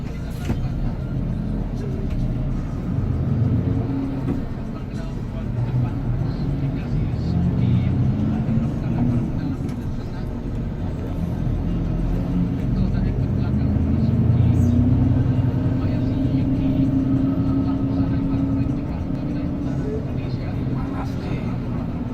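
A bus engine labors up the steep Gentong hill climb, a low, heavy drone heard from inside the cabin that rises and falls in pitch as the gears work, steady and continuous throughout.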